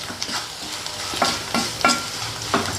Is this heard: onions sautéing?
yes